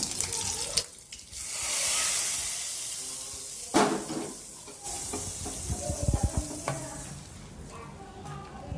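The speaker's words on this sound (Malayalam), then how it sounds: "കരിവേപ്പില ഇട്ട് കടവർക്ക് വെച്ചാൽ അതിലേക്ക്" Curry leaves sizzle and crackle in hot oil while tempering for a Kerala-style prawn thiyal, a close steady frying hiss with stirring scrapes and a brief watery burst.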